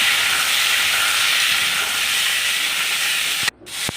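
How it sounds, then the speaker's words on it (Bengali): Cut potatoes frying in hot mustard oil in a wok, a loud, steady, close hiss of sizzling oil that runs unbroken before a sudden clatter and brief drop near the end. "তারপর কেটে রাখা আলুটাকে ভালো করে ভেজে নেব"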